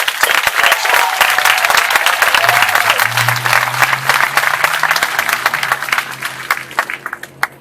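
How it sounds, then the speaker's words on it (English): A commemoration ceremony audience gives a loud round of applause for a widow and her five children, dense clapping with a faint low tone underneath, gradually thinning into scattered claps at the close. "I want to make sure we give a round of applause for Ms. Ina and the 5 children"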